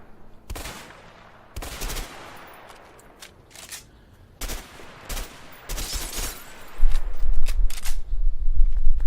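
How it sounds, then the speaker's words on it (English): Guns fired at empty houses in the co-op game A Way Out: sharp, loud gunshots in scattered single shots and short bursts, with gaps between volleys and denser firing toward the end. "Let's see what these guns can do. Lots of empty houses here. Let's shoot at them."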